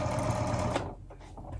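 A sewing machine stitches a fabric pocket onto a toddler pillow bed with a close, rapid mechanical whirr of needle strokes that stops abruptly partway through, followed by faint handling noises.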